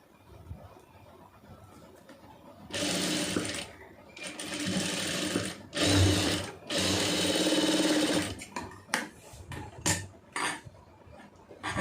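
A sewing machine stitches a marriage blouse in close, loud bursts, running steadily for several seconds at a time between short pauses, with a few sharp clicks and handling knocks in the gaps near the end.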